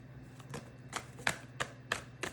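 Soft, quiet riffling of a deck of cards in short bursts during a card reading, several shuffles in a row with brief pauses between them.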